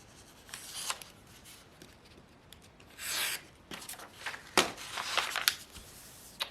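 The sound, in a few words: scissors cutting a paper pattern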